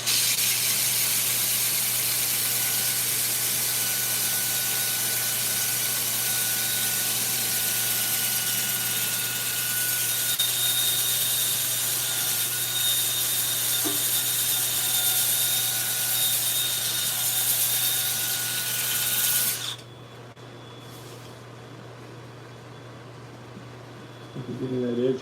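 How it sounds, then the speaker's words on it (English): Wood turning being sanded on a running lathe, a loud, steady broadband rushing hiss with a constant motor hum that suddenly drops off near the end, leaving a quieter tone. "so let me get this sand it down a little bit"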